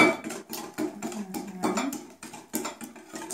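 Carrot, apple and walnut cinnamon cake batter being stirred in a bowl, a steady run of soft scraping clinks and knocks against the bowl, close and moderately loud, with a child and adult chatting around it.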